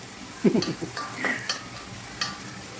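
Garlic fries in a pan for an egg noodle soup with sardines, a soft sizzle under a few light stirring scrapes and clicks.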